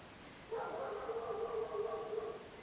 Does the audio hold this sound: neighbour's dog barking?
yes